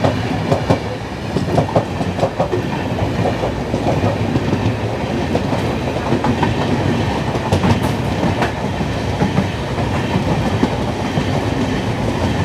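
Sealdah Rajdhani Express, the Indian Railways train, rolling in at Bidhannagar near Kolkata: a loud, steady rumble of passing coaches with rhythmic clickety-clack of wheels over rail joints, close by and continuous throughout.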